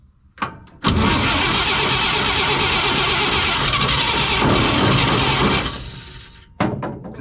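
A 1954 Chevrolet 3100 pickup engine cranks steadily and loudly for about five seconds, trying to catch but not firing, then the starter stops and a couple of brief attempts follow.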